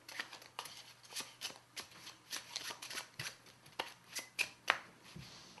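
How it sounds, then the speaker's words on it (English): A deck of playing cards shuffled by hand during a card trick, a rapid series of riffling, flicking bursts at close range, fairly soft, with no talk. "maybe you could shuffle those, and I'll shuffle these"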